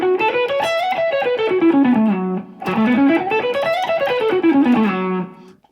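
An electric guitar with a distorted effects tone runs a pentatonic scale up and down in quick, even notes, played twice with a brief pause between passes, loud and alone without any talking.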